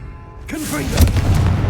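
Confringo blasting spell from Hogwarts Legacy bursting with a sharp onset, then a rumbling, crackling blast that keeps up to the end, close and loud.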